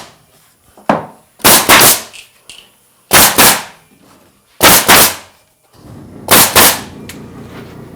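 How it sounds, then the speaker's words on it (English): Round head nails driven into wooden fence trim on a fence build, four loud sharp strikes in evenly spaced double-hit bursts, close and dry, with a few softer taps between. "I will use a round head nail on my trim"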